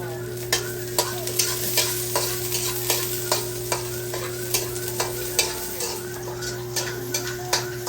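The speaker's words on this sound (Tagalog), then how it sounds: "Pag-init na, ibutang ang ahos." Garlic sautés in hot oil in a small home kitchen, a constant crackling sizzle broken by regular sharp ticks and taps of a utensil against the pan, with no voices.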